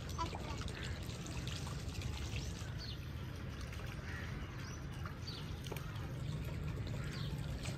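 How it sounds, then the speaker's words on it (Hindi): Water from an electric motor pump pours steadily into a pit at home, a continuous splashing flow lasting throughout, with birds faintly chirping in the background and occasional distant voices. "पानी आ रहा है। ये चलाया हुआ है ना, मोटर चला ली है।"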